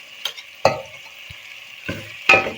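Garlic-ginger paste frying in a pan as chopped tomatoes go in, with a few loud, sharp sizzling bursts and stirring scrapes against a steady low background hiss.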